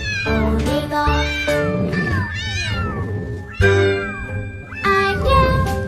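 A cat meows repeatedly and clearly, with several drawn-out, sliding calls one after another, loud and close, with no voices over them.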